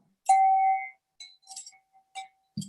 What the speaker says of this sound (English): I'm going to ring a bell.